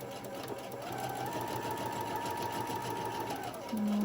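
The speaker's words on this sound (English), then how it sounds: "So I'm just going to sew all the way around, and I try to keep my fabric lined up with the inside of my presser foot." A home sewing machine runs a steady, close whirring stitch while sewing fabric around an edge, its motor pitch holding level before slowing and stopping near the end.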